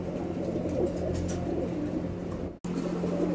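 Male chapper roller tumbler pigeon cooing in low, steady, throaty tones close by, with a continuous murmur and a brief dropout near the end; no talking.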